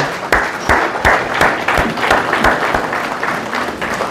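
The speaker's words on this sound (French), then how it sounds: "Acclamons pour le roi des rois." Applause from the congregation at a funeral service, a continuous close, loud round of clapping holding steady for several seconds.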